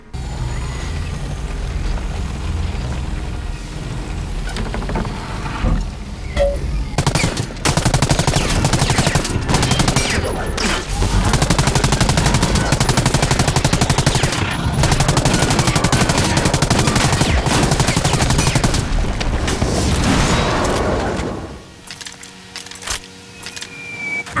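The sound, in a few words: drone strafing gunfire in video game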